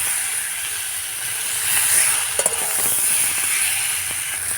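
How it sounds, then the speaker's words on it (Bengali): Potatoes stir-fried with spice masala for a rui fish jhol hiss and sizzle steadily in the pan, with a couple of soft knocks from stirring partway through. "মশলার সাথে আলুটা খুব ভালোভাবে কষাতে হবে"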